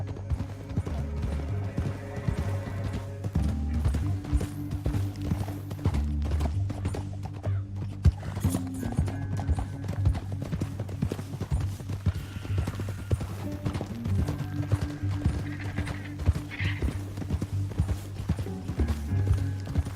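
Rhythmic clip-clop of horse hooves trotting steadily in Red Dead Redemption 2, with a low musical drone underneath and no talking.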